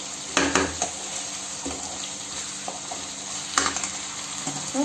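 Eggplant pieces frying in a pan for an Andhra-style brinjal curry, a steady sizzle with a few sharp scraping and clinking stirs near the start and again later, no voices.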